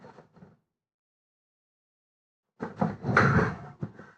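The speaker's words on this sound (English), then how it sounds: "Just want to shut the door." A door being shut inside a home in the evening: a couple of soft knocks at the start, a pause of silence, then a louder run of clattering, rattling bumps close by.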